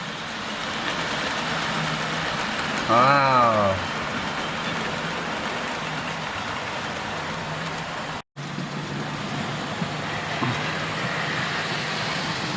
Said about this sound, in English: Here comes the oil train.